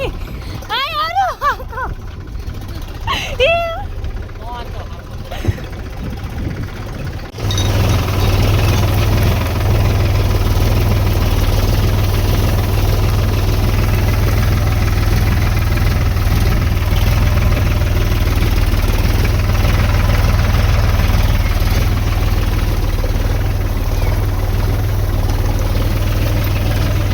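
A tractor engine starts and settles into a loud, steady idle with a constant low rumble, after a stretch of voices talking outdoors during a sowing day.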